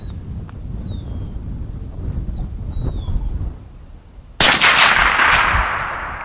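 A Bergara long-range precision rifle fires a single loud, sharp shot outdoors, its blast trailing off slowly, after wind noise and a few faint bird chirps.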